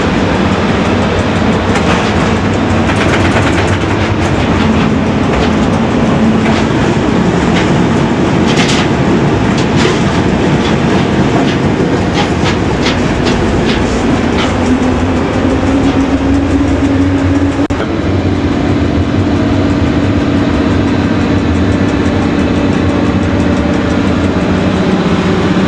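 A train rolls past at a station, a loud continuous rumble with rhythmic clicking of wheels over rail joints and a rising engine tone toward the end, with no talk over it.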